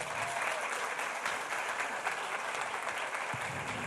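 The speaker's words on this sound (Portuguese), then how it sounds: "Uma salva de palmas para a educação infantil." A school audience gives steady, dense applause for early childhood educators, a continuous clapping wash that holds evenly for several seconds.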